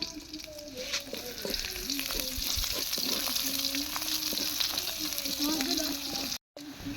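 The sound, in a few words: frying greens with chili and garlic in oil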